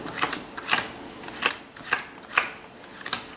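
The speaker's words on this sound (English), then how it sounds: "deal 10 cards into a pile right there on the table" Playing cards dealt one at a time onto a table, a run of about eight crisp, close slaps at a steady, unhurried rhythm with no talk.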